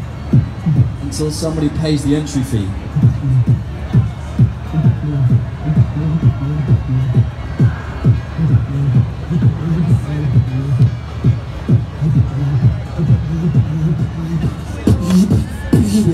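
A street beatboxer in London vocally imitates thumping nightclub music as heard muffled from outside, with steady low pulsing kicks and bass under occasional spoken lines.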